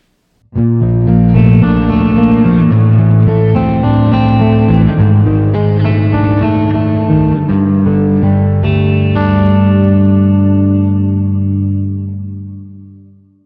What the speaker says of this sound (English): Now let's enable the doubler and try it again.